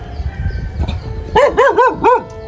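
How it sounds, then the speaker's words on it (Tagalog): A dog barks four times in quick succession close by, after a moment of low background noise. "Itong mahirap dito, may aso."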